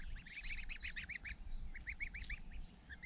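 Month-old goslings honk in two quick bursts of repeated nasal calls, moderately close, with a short pause between the bursts.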